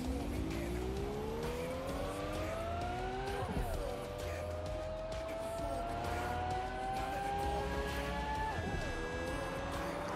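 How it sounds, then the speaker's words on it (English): Police car driving in the video game Watch Dogs: Legion, its engine revving upward in long rising sweeps with gear shifts, brief tire noise between, steady and fairly close under game ambience. "That's a cop car."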